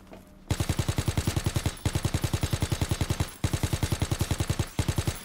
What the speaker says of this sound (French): Je tire un peu au pif hein, pour voir en cas où.